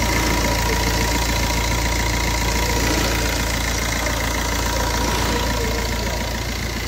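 A car engine idles steadily in a repair shop, a loud, close, even hum and rumble running the whole time with no talk.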